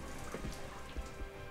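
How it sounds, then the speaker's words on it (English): Rain falling in the Spider-Man: The Movie Game video game, a steady, dense patter of drops that fills the whole moment at a moderate level with no voices over it. "It's raining"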